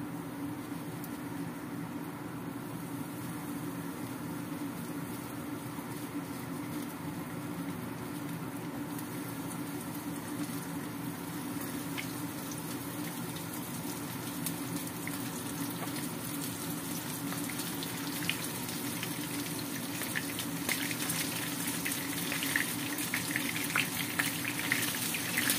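Battered chicken pieces frying in hot oil for ayam geprek, a steady dense sizzle with a continuous crackling hiss that grows slightly louder toward the end, heard alone without talk.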